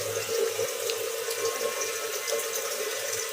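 Tap water runs steadily into a kitchen vessel as it fills, a continuous close splashing rush with no pauses, while faint construction work sounds in the background.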